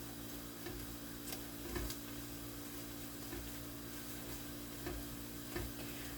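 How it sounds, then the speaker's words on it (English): Flour is stirred into onions in a soup pot for homemade tomato soup, giving faint scraping ticks and soft clicks over a quiet steady sizzle. "So I'm going to keep stirring"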